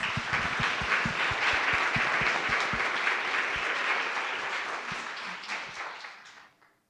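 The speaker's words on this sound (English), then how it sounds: "We give them a round of applause." Sustained audience applause for a panel at a women's conference, dense steady clapping that fills the room and fades out toward the end.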